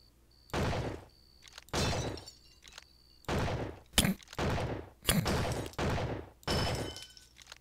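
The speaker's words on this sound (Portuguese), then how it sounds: "Atire em 10 garrafas em 25 segundos pra ganhar uma vida extra." Repeated loud video game gunshots fire in bursts at bottles, each with a crackling glass-shattering tail, spaced roughly a second apart.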